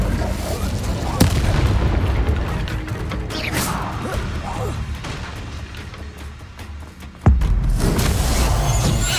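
Fire spell cast in Hogwarts Legacy against a hulking brute, heard as loud booming blasts and crashes with a sharp impact near the start and another heavy burst later, over continuous combat noise.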